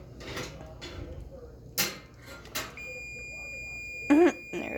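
Kitchen timer going off while canning blueberry butter, a steady thin electronic tone sounding for a couple of seconds amid clinks and handling noises on the counter.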